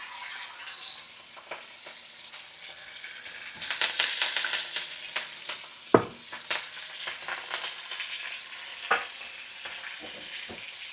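Ribeye and fillet steaks sear in a hot pan as butter and aromatics go in, a steady sizzle breaking into louder crackling bursts and spatters, close and without talk.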